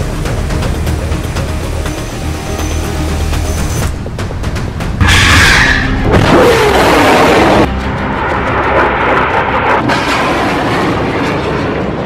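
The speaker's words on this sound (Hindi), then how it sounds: "फिर फायर हुआ दूसरा रॉकेट, इसके बाद लॉन्च हुआ तीसरा रॉकेट।" Hamas rockets fired and launched one after another in wartime, loud rushing roars and booming blasts in successive bursts over a rumbling background.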